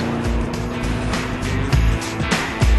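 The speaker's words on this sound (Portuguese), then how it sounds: "Você para num semáforo e sai, vrum, e sabe que se acelerar ele vai responder." A car engine revs and accelerates, a loud, close, rising drone with a few surges, heard alone without talk.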